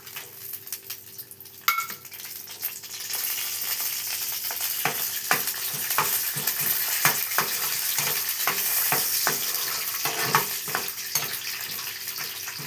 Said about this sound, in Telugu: ఇప్పుడైతే కొన్ని పల్లీలు, ఒక 2 స్పూన్ల మినపప్పు అయితే వేయించుకుందాము.